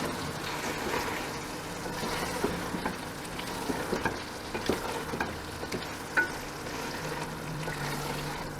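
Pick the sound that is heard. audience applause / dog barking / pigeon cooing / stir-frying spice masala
stir-frying spice masala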